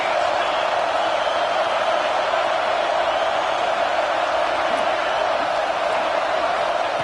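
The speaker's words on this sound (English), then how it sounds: "Decibels rising as the crowd gets behind this defense on 3rd down" A college football video game crowd (CFB 26) roars steadily as the home defense faces third down, in a dense, constant wall of stadium noise that never lets up.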